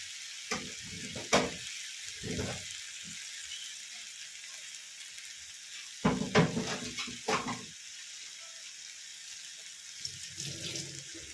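Tomato dropped into yard long beans frying in a pan, with bursts of sizzling and stirring around 1 and 6–7 seconds between quieter stretches of low background hiss.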